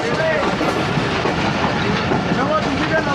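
The Awam Express passenger train rumbles along the railway track between Lahore and Peshawar, a loud, continuous roar of wheels and carriage noise heard from on board.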